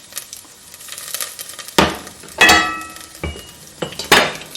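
Whole spices and crushed whole cardamom pods tipped into hot oil for Afghani chicken pulao, giving a few sharp metallic clinks and scrapes of utensils against the pan over a soft, steady sizzle.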